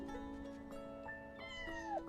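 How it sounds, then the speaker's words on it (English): A cat in the Infinity Nikki video game meows in a drawn-out, wavering call over soft game music, close and moderately loud with no talking. "Kitty!"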